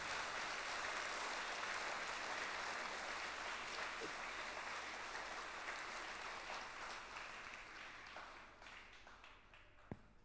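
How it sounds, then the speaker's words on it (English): A church congregation at an Easter Vigil Mass applauds, a broad sustained roar of many hands clapping that gradually thins and fades near the end, with a faint voice underneath. "let us clap 3 times louder than our prayer group"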